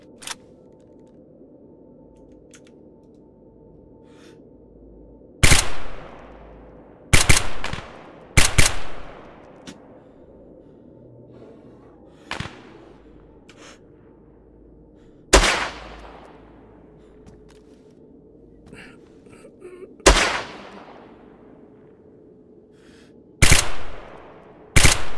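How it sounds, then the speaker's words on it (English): Heavy gunfire in a video game, with short loud bursts of shots recurring at irregular intervals against a quiet low hum, each crack trailing off before the next volley. "Oh, heavy fire!"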